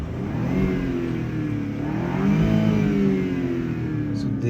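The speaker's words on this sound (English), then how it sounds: "this was the exhaust note" A 2021 Porsche Cayenne's exhaust rises and falls through a revving sweep, with a loud, close, steady engine tone that climbs, holds and settles back over a few seconds.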